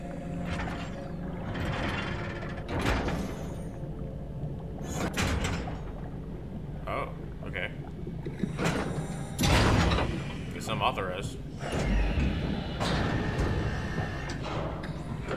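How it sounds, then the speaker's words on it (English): A large heavy door in the sci-fi game SOMA grinds and clanks open with loud mechanical thuds and sliding rumbles over several seconds, while someone talks over it. "Big ass door. Oh my god, this is loud."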